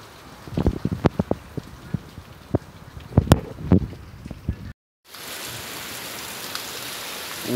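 Heavy rain pours in the Brazilian sertão, with gutters running with water. Dense hiss with scattered drip and splash impacts in the first part, then a brief dropout gives way to steady, broadband downpour noise and gusting wind.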